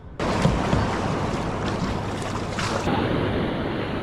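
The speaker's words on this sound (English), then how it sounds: "Dang, some of those waves are popping up 6 feet tall." Ocean surf churning around a kayak on open water, waves reportedly rising to six feet, a continuous loud wash of broken water with wind buffeting the microphone and no voices.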